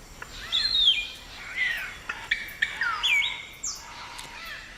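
Palm cockatoos call back and forth at their nest hollows, a series of separate, fairly faint whistled and squawking notes over soft background hiss, with no talk.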